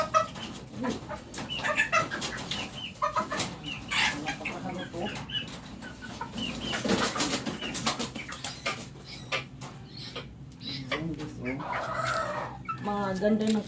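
Chickens, some of them sick and being tended, cluck on and off close by, with one voice speaking briefly over the flock.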